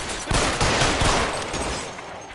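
Gunfight in the video game L.A. Noire: dense, rapid gunfire with overlapping shots and bursts, loud and continuous throughout, with no talking.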